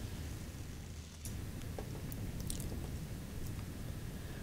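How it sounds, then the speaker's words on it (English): A dog gnawing on a stick close by, with steady wet chewing and crunching and a few sharper bites over a constant low background hum. "He is chewing a stick."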